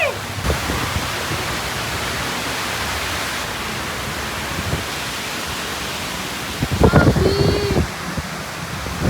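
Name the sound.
strong wind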